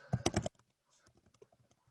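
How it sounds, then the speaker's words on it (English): Keys on a computer keyboard clatter in a quick burst of clicks, then a sparser run of lighter taps follows, close and clear with no talking. "We can see Ali typing back to me."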